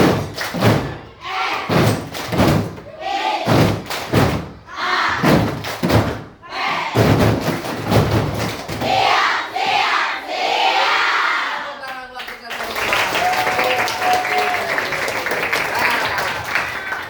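A school class performs the rhythmic clapping chant tepuk siap, a series of sharp, evenly spaced claps and thumps shouted along in unison, ending in a burst of cheering and general applause from the children.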